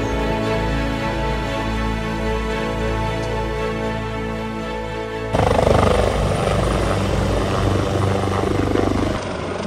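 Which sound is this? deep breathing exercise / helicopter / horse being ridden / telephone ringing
helicopter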